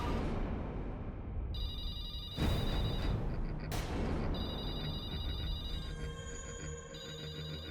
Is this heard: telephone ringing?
yes